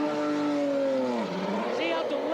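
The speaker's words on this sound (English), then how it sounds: "Now, listen to the car as it goes out." An Indy race car pulls out of pit road at the 1996 Indianapolis 500, its engine note loud and close, sweeping steadily downward in pitch before climbing again as it accelerates away.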